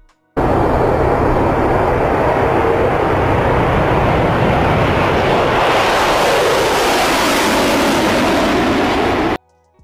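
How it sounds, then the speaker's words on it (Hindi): Concorde supersonic passenger jet producing a loud, steady, broadband engine roar that holds for about nine seconds with no voices, brightening in its upper register partway through before cutting off abruptly. "कॉनकॉर्ड एक अभूतपूर्व सुपरसोनिक यात्री जेट था"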